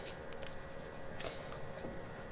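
Pen writing the median formula by hand on paper, heard as faint, quiet scratching strokes in short irregular bursts over a low room hiss.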